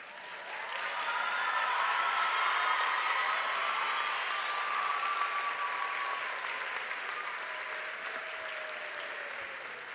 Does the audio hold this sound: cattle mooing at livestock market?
no